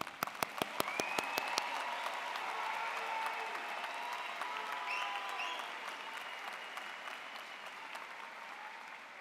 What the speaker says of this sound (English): Everyone, please join me in applauding these outstanding graduates for their achievements.